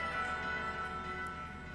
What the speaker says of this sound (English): the bell sound that plays when you hit the A button